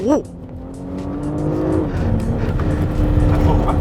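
A 2021 Porsche Cayenne E-Hybrid pulls hard in second gear on a race track, its engine note climbing steadily and loud, with a voice speaking over the start.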